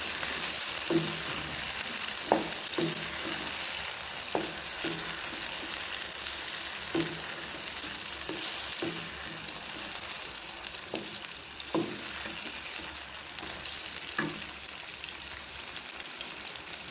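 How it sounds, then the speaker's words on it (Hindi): Ginger, garlic and green chili paste fries in a pan with a steady hiss, and scattered louder spits and crackles break through the sizzle now and then. "दो से 3 मिनट हम इसको अच्छी तरह फ्राई कर लेंगे, भून लेंगे।"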